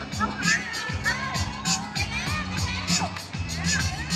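Crowd of onlookers cheering and shouting for a friend during a Pad Thai ingredient shopping game at a Makro HoReCa trade event, lively babble and repeated shouts mixed with nearby voices talking.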